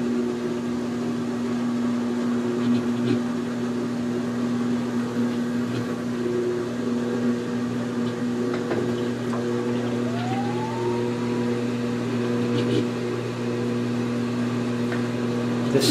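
A GE Infusor GTWN5050M0WS high-efficiency top-load washer spinning up, a steady motor hum with a tone that slowly rises in pitch, loud and continuous with no talk.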